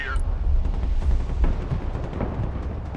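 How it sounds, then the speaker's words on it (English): Gunfire and artillery booms in the war video game Broken Arrow, a steady rumble of blasts and shots with voices faintly mixed in. "Marines under fire! Heavy weapons team taking fire!"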